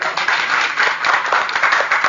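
Audience clapping for a party leader at a Thai radio-station event at a temple, a short burst of brisk, fairly close handclaps from a modest group, rhythmic and dense throughout.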